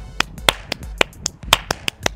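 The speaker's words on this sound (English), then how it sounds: "Speed clapping." One person speed claps alone, giving sharp, crisp claps close by, roughly four per second in an uneven quick rhythm, with a few softer taps between.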